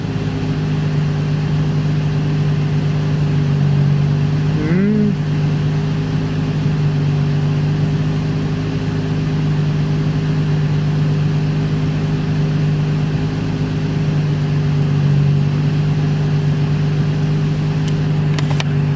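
A Nissan 350Z engine idling while it warms up after an alternator install, a loud, steady low hum with a constant tone and a slight waver around the five-second mark.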